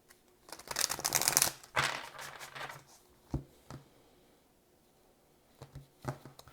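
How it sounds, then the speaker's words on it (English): A tarot card deck being shuffled by hand, a dense riffling burst of card flutter followed by several shorter soft shuffles and taps, close and fairly quiet with no talking. "We're going to get 2 more shuffles here."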